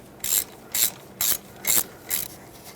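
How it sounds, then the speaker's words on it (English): A ratchet drives a 5mm Allen bit to remove the rear ABS sensor bolt on a Chevrolet Equinox, with five evenly spaced bursts of crisp, loud ratcheting clicks close to the listener. "Use a 5mm Allen to remove the bolt that holds that ABS sensor in."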